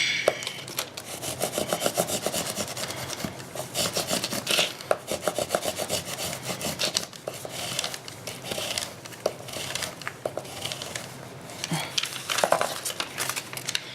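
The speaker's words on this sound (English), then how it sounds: "I'm going to take a bone folder and I'm going to burnish this to help get the adhesive just on the die cut" A bone folder is rubbed firmly over an adhesive-backed paper die cut, making a continuous close scraping, rasping sound with quick repeated strokes.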